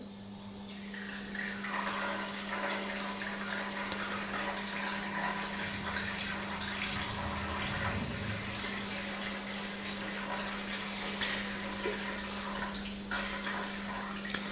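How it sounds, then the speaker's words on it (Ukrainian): Condensate water rushes and gurgles steadily from an open autoclave drain valve over a constant low mechanical hum, continuing evenly without pause. "Для цього потрібно привідкрити кран злив конденсату."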